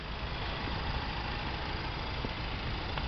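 A Honda car with a 1.6-litre diesel engine and manual gearbox sits idling, giving a low, even, unchanging hum for a few seconds with no talk over it.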